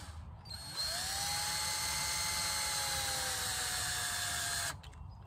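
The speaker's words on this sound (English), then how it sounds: "I'm just gonna put a screw in the very center" A handheld power drill drives a screw into a pine board for a stump bench, one steady high-pitched whine running about four seconds with a rising start and abrupt stop, close and loud.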